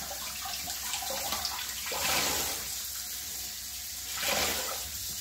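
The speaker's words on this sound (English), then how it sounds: "dump it down the drain." Dye water from cotton yarn dyeing being poured down a kitchen drain, a continuous rushing, splashing flow that swells louder twice, with no speech.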